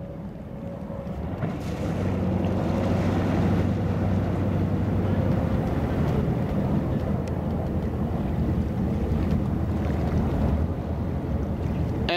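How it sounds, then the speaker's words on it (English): A 1998 Formula 34 PC express cruiser with two brand new engines turns in a circle on the water. Its engines give a steady, loud, low drone after a quieter start, mixed with wind buffeting the microphone. "We have this 1998 Formula 34 PC with two brand new engines, strutting her stuff, doing a nice pirouette on the water."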